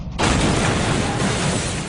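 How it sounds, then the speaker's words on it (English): A loud, sudden practical special-effects explosion on a TV set erupts after a brief quiet moment, then a sustained roaring rumble of fire and debris fills the rest of the clip. "Practical explosions, incredible burnings, really the master of disaster"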